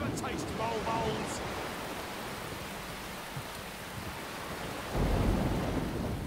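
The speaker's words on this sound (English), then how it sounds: "I've not seen this stormy before." Stormy weather in the video game Vermintide: steady rain hiss with a low rumble of thunder swelling near the end, plus a few faint game sounds early on and no clear talk.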